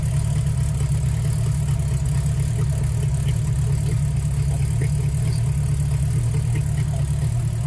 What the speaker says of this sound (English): The exhaust sounds good though.